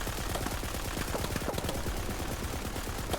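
Rapid submachine gun fire in a looter-shooter game, a steady dense stream of shots that carries through the whole stretch at close range, loud and unbroken.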